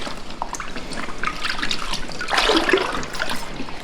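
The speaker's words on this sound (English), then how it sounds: "you'll just dip them in to get them wet and then stir them around into" Baby rompers being dipped and stirred in a soda ash and water mixture, giving close, irregular sloshing, dripping and trickling that swells midway, with no talking.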